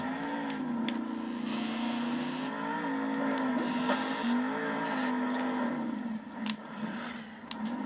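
A monster truck engine from Monster Jam Steel Titans 2 drones at a steady, loud mid-pitched note during a freestyle run at Indy, with slight rises and dips in revs and no talking.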